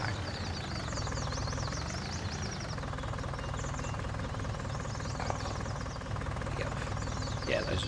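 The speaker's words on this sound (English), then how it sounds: "Left the engine on though." A tractor engine idles steadily in Farming Simulator 19, a low continuous knocking hum running throughout at fairly low level while a person talks over it.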